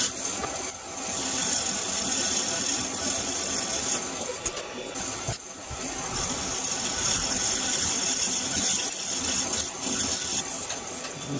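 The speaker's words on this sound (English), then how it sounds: "now we'll do a little bit of shear scraping" A scraper shears across a spinning wooden bowl on a lathe, making a continuous, fairly loud rasping whir that holds steady throughout with only brief dips.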